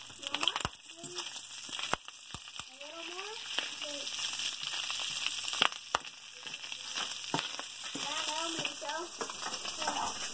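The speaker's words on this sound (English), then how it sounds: "my honey is making chicken fried rice" Chicken fried rice frying in a pan, a steady close sizzle with sharp clatters of a utensil against the pan, while voices talk now and then over the cooking.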